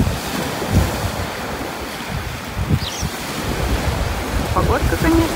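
Steady roar of Sea of Marmara surf in Turkey with gusting wind buffeting the microphone, a continuous wash of noise with no voices.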